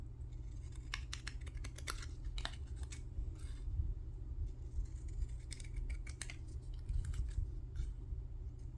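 Pinking shears cutting fabric, a series of crisp snipping crunches in quick bursts, close and fairly quiet over a low steady hum.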